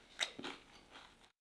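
Someone takes a crisp bite of toasted bread topped with cheese and salami, giving a crunch followed by a few soft chewing sounds. The sounds are close but faint, with nothing else heard.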